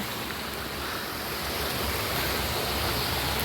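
A waterfall gives off a steady, dense rush of falling water, heard up close and alone. The roar grows slightly louder over a few seconds.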